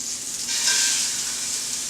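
Food sizzles steadily in a hot pan as it is turned with tongs, a close, continuous frying hiss with a brief swell partway through.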